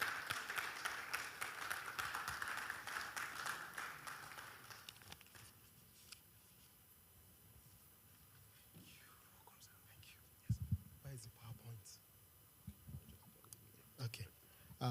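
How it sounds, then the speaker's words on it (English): Brief applause from a forum audience welcoming a speaker to the stage, fairly faint clapping that fades within a few seconds, followed by quiet room noise, shuffling and knocks. "with a warm round of applause, can we kindly welcome Dr. Ganiyu Jamiu to the stage"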